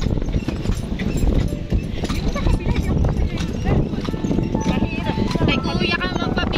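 Horse hooves clip-clop steadily on a city street as the horse pulls a carriage in Cebu, a regular close rhythm under continuous background noise and chatter.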